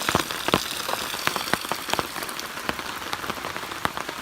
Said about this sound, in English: in true style, it rained a lot of this afternoon